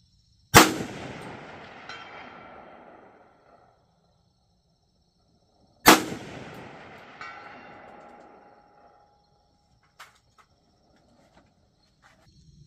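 Two loud rifle shots from a Bear Creek Arsenal 16-inch 300 Blackout upper firing subsonic rounds, each a sharp crack with a long decaying echo, several seconds apart, then faint clinks.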